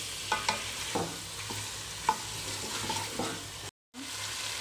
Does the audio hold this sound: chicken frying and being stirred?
yes